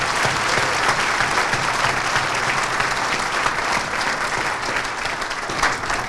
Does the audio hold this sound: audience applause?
yes